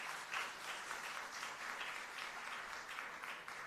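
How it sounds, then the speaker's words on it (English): Attendees at an international comparative literature conference at the University of Delhi give a steady, crowded round of applause that carries evenly for several seconds without speech. "I request all of you, ladies and gentlemen, to please give a round of applause for all the distinguished guests of the day."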